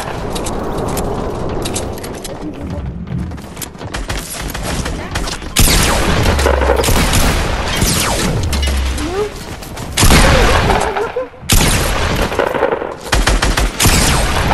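Dense automatic gunfire in a battle royale game, rapid loud volleys that stop and start in bursts while excited players talk over them.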